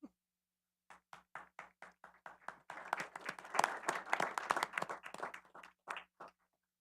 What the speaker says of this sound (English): So can we have a round of applause for everybody I just greeted and said thank you to?